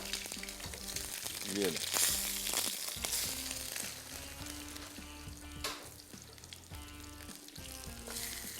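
Frozen chapli kebabs fry in a pan over lowered heat, giving a continuous sizzle with crackling bursts, while a voice speaks briefly over it.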